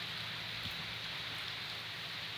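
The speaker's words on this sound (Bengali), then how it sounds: "আর এই যে দেখতেই পাচ্ছেন বৃষ্টি পড়তেছে" Steady rain falls in Dhaka, Bangladesh, a soft, even hiss of drops on surfaces that continues without a break, heard alone and at fairly low level.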